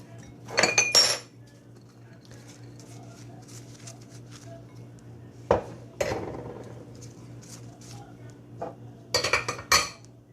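A spoon clatters and clinks against a bowl while a mortadella, grated cheese and herb stuffing is mixed, in a few short bursts separated by quiet gaps over a low hum.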